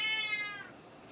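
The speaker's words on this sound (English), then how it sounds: "But Spud keeps meowing in the background." Spud, a pet cat, lets out a drawn-out, close meow that rises and trails off over about half a second, followed by quiet room background.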